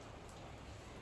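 Heavy rain pours down outside a house, a steady soft hiss of drops with no breaks, faint and even throughout.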